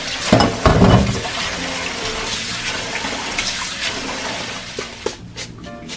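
Soaked grains for five-grain rice are rinsed under running tap water, giving a steady, close rush of water with splashing and sloshing near the start.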